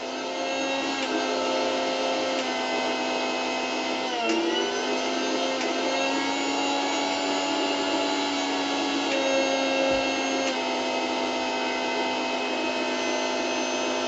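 A household mixer grinder fitted with a new motor runs steadily with a loud, continuous whine and hum, close by and alone, holding an even level throughout with no talking.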